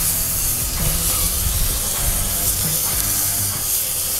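Food frying on a hot surface after being flipped, a loud, close, continuous hiss and sizzle with no pauses, and faint low tones beneath it.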